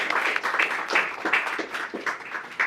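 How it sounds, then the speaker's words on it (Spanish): Brief applause from an audience welcoming a speaker at an arbitration tribute panel, a short burst of mid-distance clapping with uneven swells throughout. "Lo recibimos con fuertes aplausos, por favor, al maestro Ricardo Salazar Chávez."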